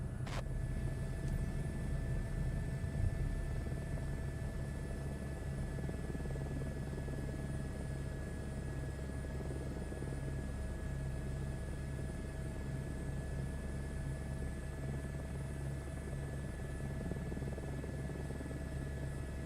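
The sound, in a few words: airplane engine during landing, Microsoft Flight Simulator 2024 video game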